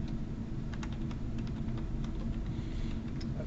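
Computer keys are tapped in a quick, light run of clicks, faint beneath a constant low rumble of background noise.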